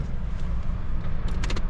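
An MG ZT 260 is driven, its engine giving a close, steady low rumble, with a few light clicks near the end.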